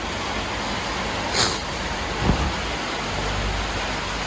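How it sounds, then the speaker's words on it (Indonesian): Steady soft hiss of light rain falling by a garage, even and continuous, with a brief faint thump partway through and no voices. "Ini kan juga ini baru hujan ya. Belum deras ya kan"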